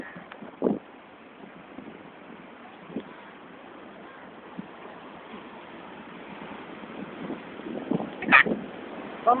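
Sea waves at Digha beach wash in as a steady broadband roar under wind noise, with a few louder surges and brief bumps near the microphone.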